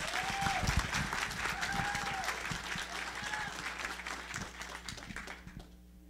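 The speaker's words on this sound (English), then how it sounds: "A round of applause for Ronda," An audience applauds speaker Ronda at a Wichitalks Big Read Edition event, giving sustained, dense clapping from a crowd that fades out near the end.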